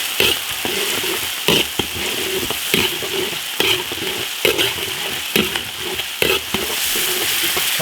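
Chili oil stir-frying in a wok with Sichuan peppercorns and chilies, a loud continuous sizzle punctuated by rhythmic scraping strokes of the spatula, close up and without talk.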